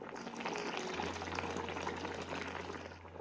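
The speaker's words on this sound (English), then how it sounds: "Pouring in hot water. Don't add too much." Hot water pours steadily over rice in a pot for chicken plov, a continuous close bubbling, splashing rush with a low hum underneath, no talk.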